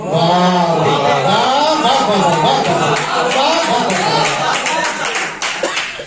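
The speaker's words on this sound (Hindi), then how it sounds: "रईस भाई वही लोग ताली बजा रहे हैं जिनके दिल में ख्याल पड़ते हैं" Audience at an Urdu poetry mushaira clapping amid voices: steady crowd clapping that grows into sharper, denser claps toward the end, with a voice and crowd chatter running through.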